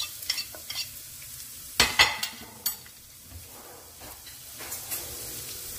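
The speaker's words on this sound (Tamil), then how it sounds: "இப்போ நாங்கள் இதுக்குள்ளே நாங்கள் கடுகு போட போகிறோம்" Mustard seeds fry in hot oil with crackling sizzles and a few sharp pops and clatters of a spoon against the pan, close by, with quieter stretches between bursts.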